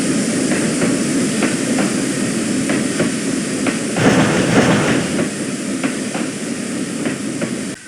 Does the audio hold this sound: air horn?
no